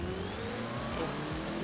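A Mitsubishi Eclipse GSX in a racing video game revs up and upshifts, its engine pitch climbing then dropping at each gear change, loud and close with no talk.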